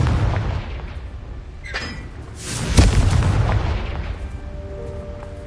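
Confringo fire spell in the Hogwarts Legacy video game, a deep booming explosion that bursts near the middle and rumbles away, preceded by a smaller crackling blast, with no talking.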